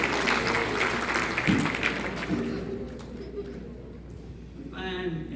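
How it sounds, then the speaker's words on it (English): A church congregation claps in praise to the Lord during a sermon; a moderate, scattered burst of hand claps fades after a few seconds into quiet murmuring, and a voice comes in near the end. "Let's give the Lord a hand clap of praise"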